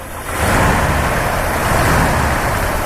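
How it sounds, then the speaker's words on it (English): 1966 Ford F100 Custom Cab pickup engine revving up, a steady loud roar that swells within the first half second and then holds. "Go ahead and rev it up a little bit."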